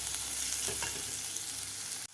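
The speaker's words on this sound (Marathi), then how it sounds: "आता आपल्याला हे 2 ते 3 मिनिट मोठ्या गॅसवर व्यवस्थित परतून घ्यायचं आहे." Sweet corn, carrot and garlic are stir-fried over a high gas flame, giving a loud, continuous hiss of frying with a few soft stirring scrapes, close up, ending abruptly.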